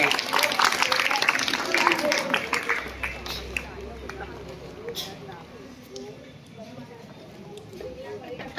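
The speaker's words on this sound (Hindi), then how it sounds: "तालियों से इस्तकबाल करें।" An audience at a school gathering applauds in welcome, dense clapping strongest at the start and thinning into scattered claps amid crowd murmur.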